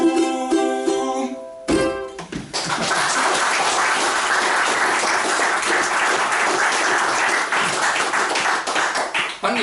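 Applause from a small audience at a live poetry jam in Durham, a steady wash of many hands clapping close and loud, following a brief spoken line at the start.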